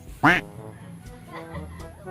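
A loud squawking chicken call bursts out once up close, followed by softer clucking and scattered fowl noises nearby.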